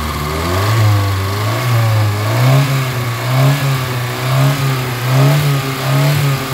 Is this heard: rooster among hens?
no